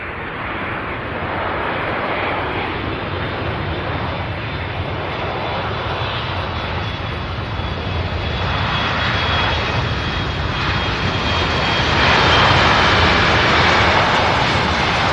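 A heavy UPS jet takes off at Louisville's SDF airport with a loud, sustained roar that grows steadily stronger as it builds power and climbs, heard alone without talk.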